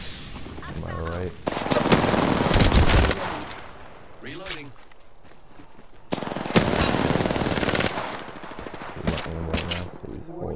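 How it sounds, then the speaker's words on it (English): Automatic weapon fire in the battle royale game Apex Legends, loud sustained bursts of rapid shots in two long volleys with quieter gaps between them, mixed with game effects. "Now I'm getting shot at."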